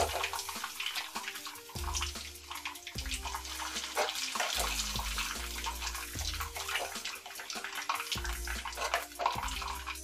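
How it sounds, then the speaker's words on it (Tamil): Pieces of idli frying in a pan of hot oil give a steady, dense sizzle that runs throughout, with tonal music playing underneath. "எண்ணெய் சூடாகிச்சு, இப்போ நம்ம வந்து இட்லியை அதில் சேர்த்துடலாம்"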